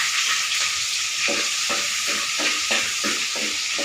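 Ginger sizzling in a hot pot for chicken curry, a loud, continuous hiss of frying with repeated stirring scrapes roughly every half second, close up and with no talking.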